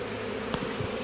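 Honeybees swarm around a parrot nest box, a steady close insect buzz with a few louder passes of individual bees near the microphone.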